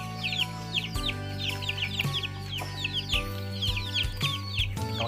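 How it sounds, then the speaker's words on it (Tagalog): Farm chickens cluck repeatedly and close by in short, rhythmic bursts over a low steady background hum, with no talking. "chicken."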